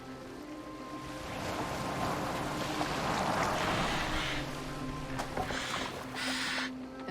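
A boat gliding over water in Assassin's Creed Valhalla, a steady wash of water and hull noise with a low drone underneath, fairly constant throughout with no talk.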